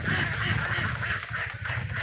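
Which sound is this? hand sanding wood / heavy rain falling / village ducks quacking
village ducks quacking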